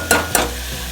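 Chili powder sautés in a pan of sambar, two quick stirring scrapes over a soft steady sizzle, close and fairly loud, with no talking.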